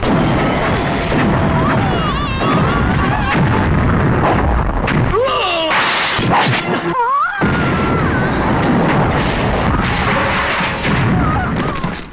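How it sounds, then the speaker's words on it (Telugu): A bomb goes off in a Telugu action film scene, heavy booming blasts and crashing debris filling a dense, loud mix with shouting voices and music throughout. "బాంబు పేలిపోతుంది."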